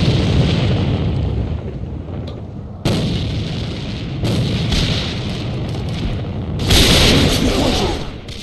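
Grenade blasts in the online shooter A.V.A., several heavy booms with rumbling tails that start abruptly and overlap, loud and close, under ongoing game noise.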